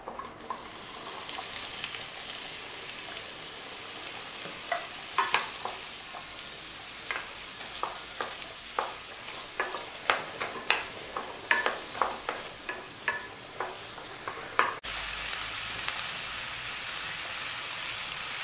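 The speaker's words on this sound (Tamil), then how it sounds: "அடுத்து நம்ம ஒரு வாணல்ல காய்கறி எல்லாம் வதக்கி எடுத்துக்க போறோம் எண்ணெய் ஊத்திக்கோங்க" Onions and vegetables sautéing in oil in a wok-style pan, a steady crackling sizzle with a run of rhythmic spatula scrapes and taps in the middle, close and quiet with no talk.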